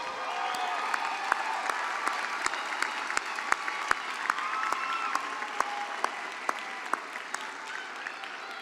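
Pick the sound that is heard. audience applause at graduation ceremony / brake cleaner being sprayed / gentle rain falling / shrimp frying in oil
audience applause at graduation ceremony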